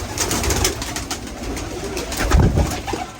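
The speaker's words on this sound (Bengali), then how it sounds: "তো এখন খাবার দেওয়ার সময় হয়ে গেছে, কবুতরগুলোকে খাবার দিব।" Pigeons coo loudly and continuously at feeding time in a loft, with several birds overlapping in rhythmic, throaty calls and some rustling movement close by.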